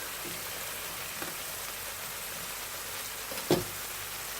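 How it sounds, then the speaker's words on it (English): Chicken Ceylon curry bubbling down in a pan, a steady soft sizzle and crackle of simmering sauce with occasional small pops, close and continuous with no talk. "I don't know whether people like to watch it bubble down"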